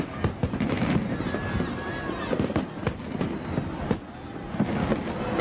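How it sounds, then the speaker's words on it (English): Fireworks burst over Vatican City during the millennium celebration, a rapid run of sharp cracks and booms, some near and some distant, with a broadcaster talking over them. "with the fireworks going off all around him"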